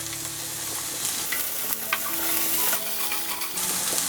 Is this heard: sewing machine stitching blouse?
no